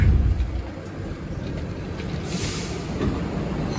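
The KA Gumarang train rolls into Pasar Senen station, heard from on board as a steady low rumble with faint hissing and clatter while it slows.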